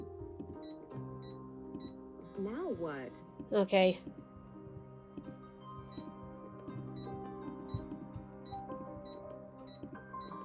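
Signal tracker in the Nancy Drew: Mystery of the Seven Keys video game beeping at a steady, even pace, short sharp beeps about every half second over game background music, with a voice speaking briefly partway through.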